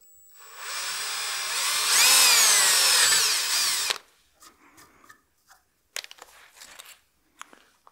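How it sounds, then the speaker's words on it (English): A drill bores a hole into a small wooden birdhouse ornament mounted on a lathe, a loud steady whine rising in pitch for about four seconds before stopping abruptly, followed by scattered faint clicks and handling taps. "I try and drill this as straight as possible."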